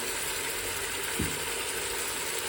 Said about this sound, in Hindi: अब भुनाई कर लेंगे हम।